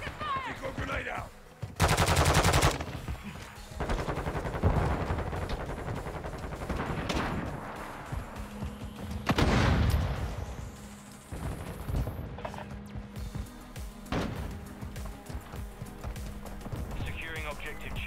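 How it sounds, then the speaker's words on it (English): A decoy grenade in Call of Duty Modern Warfare 2 sends out bursts of fake gunfire: loud automatic rattles and scattered shots over game ambience, with radio-style voice callouts mixed in. "Decoy grenade out."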